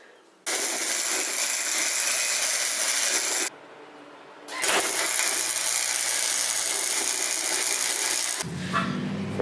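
Tack welding a bar to a car frame during a B18 engine swap into a Geo Metro: steady loud arc crackle and hiss in two long bursts split by a short pause, close up and without talk.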